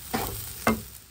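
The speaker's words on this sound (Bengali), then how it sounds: "এখানে হচ্ছে রাইসটা এখন ভেজে নিচ্ছি।" Rice is stirred and fried in the pan used for cooking meat, two short scraping stir strokes over a faint sizzle, close and brief.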